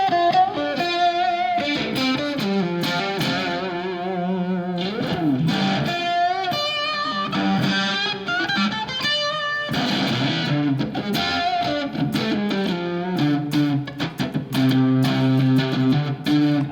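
A fuzz-pedal electric guitar plays a busy riff continuously, heavily distorted, thick and buzzing with a punchy edge.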